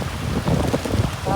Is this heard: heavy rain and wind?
yes